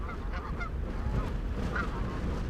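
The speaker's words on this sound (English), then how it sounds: "an island full of these cobra chickens. Canada geese, they don't make for very good neighbors." Several Canada geese honk in a noisy outdoor setting, their calls repeating in short bursts over a steady background rumble.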